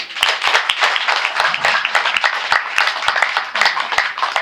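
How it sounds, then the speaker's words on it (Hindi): An audience at a nature cure lecture in Delhi claps for themselves, a brisk crowd of hands with sharp individual claps standing out, fairly close and steady throughout, and a brief voice under it. "और अब अपने लिए जरा ताली बजाओ"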